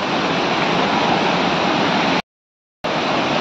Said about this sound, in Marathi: हे बघा मित्रांनो एवढं पाणी आहे